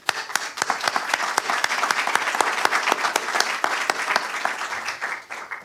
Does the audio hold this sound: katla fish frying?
no